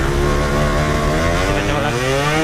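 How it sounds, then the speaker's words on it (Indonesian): A Satria motorcycle engine runs steadily at a low, smooth idle, its even harmonic drone holding constant throughout with a slight pitch shift midway. "Ini suara mesinnya benar-benar adem banget"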